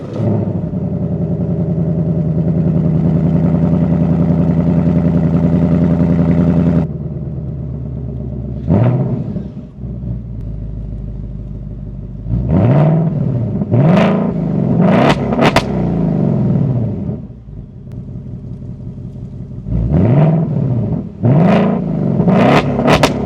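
A 2025 Ford Mustang GT Premium Fastback with a 5.0 V8 idles loudly and steadily, then settles lower before a string of sharp, close throttle blips and revs that rise and fall repeatedly.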